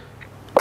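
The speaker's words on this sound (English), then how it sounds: "That was such a delayed sneeze." A single sudden sneeze bursts out at the very end after near-silence, loud and close, in a home kitchen while banana is being mashed for a cake.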